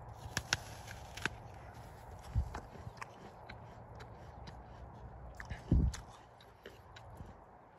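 A few crisp crunching bites into a Katherine's Favorite apple, with soft chewing between them, close up and otherwise quiet.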